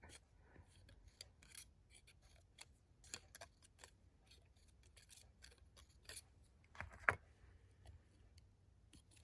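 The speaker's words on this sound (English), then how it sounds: "we're going to cut in between each petal towards the center with our precision scissors" Small scissors snip in a series of quick, crisp cuts with soft rustling between them, close and quiet, one slightly louder snip near the end.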